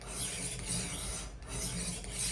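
A knife blade is drawn repeatedly against a portable sharpener, making a rasping, gritty scraping in steady strokes at close range with a short pause midway and no talk.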